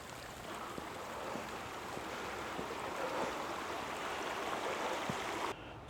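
Steady rushing of a creek on a wooded nature preserve hike in Chester County, Pennsylvania, a continuous, fairly faint wash of flowing water with no voices.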